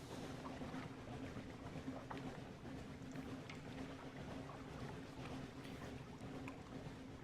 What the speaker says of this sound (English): Why can't I get any faster? It's because the engines are damaged?